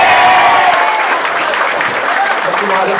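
Loud audience applause fills a hall, dense clapping from many people close by, fading slightly toward the end with a few voices mixed in.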